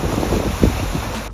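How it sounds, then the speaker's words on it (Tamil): Strong wind gusts by the lake at Lausanne batter the microphone, a loud, rough, continuous rumble with a short surge midway and waves faintly beneath. "காற்று பயங்கரமாக அடிச்சுட்டு இருந்தது"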